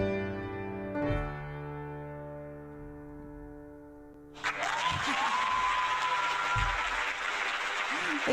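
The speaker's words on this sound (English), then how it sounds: "The applause sounds so funny today." Sustained musical tones fade out, then a burst of canned applause sound effect on a live internet radio show swells and holds steady, with brief voice fragments mixed in.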